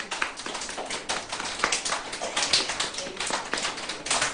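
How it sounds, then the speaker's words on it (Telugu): Children clapping together in a room make a steady, even patter of many hands that runs the whole time at moderate loudness. "మరి గట্టిగా క్లాప్స్ కొట్టేద్దామా?"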